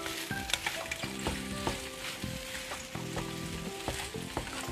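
Leftover rice frying in a pan for fried rice alongside eggplant and egg, a steady close sizzle with repeated scraping and stirring clatter from a utensil, no talk.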